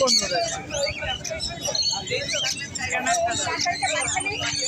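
Many small birds chirp and tweet continuously at a crowded animal and bird market in Srirampur, over a steady murmur of people talking nearby.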